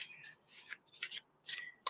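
A deck of oracle cards being shuffled close up, a few quick papery riffling bursts with short pauses between them, quiet and without talk.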